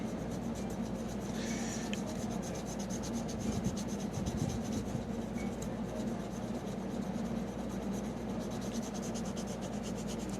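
Steady dry rubbing and scrubbing on the contacts of a 1986 Nintendo Kid Icarus game cartridge, continuous and close, with a brief brighter rasp near the start and no talking.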